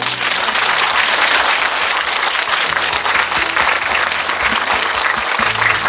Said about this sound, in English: One more time, applause.